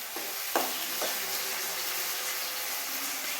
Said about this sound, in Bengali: আলু চলে গেল কড়াইয়ে। এবার ভাজা হবে ভালো করে।